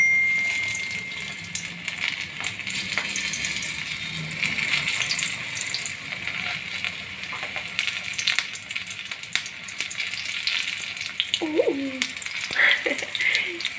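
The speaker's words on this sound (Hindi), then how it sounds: "देखिए हमारी अब ये मिर्चें जो हैं फ्राई हो रही हैं" Green chilies coated in besan batter fry in hot oil, giving a steady, close crackling sizzle throughout with a few brief clinks near the end.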